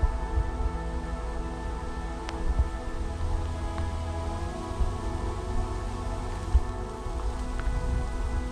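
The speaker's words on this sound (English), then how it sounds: "And it's still raining." Steady rain falls in woods, pattering evenly on leaves and ground at close range. A few louder drips land throughout, and no one speaks.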